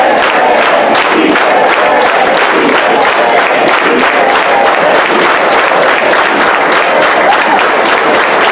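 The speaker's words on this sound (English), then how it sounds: "That's nice applause." A large crowd at a farmworker rally claps in a loud, rapid rhythm while chanting together, the organized clapping and shouting filling the space continuously without pause.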